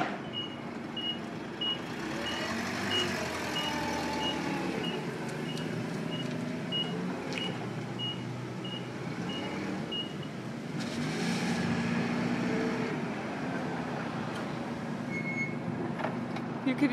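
An entry-level forklift reversing, its evenly spaced beeps repeating steadily over a low engine hum in an indoor material-handling setting, with faint talk in the background.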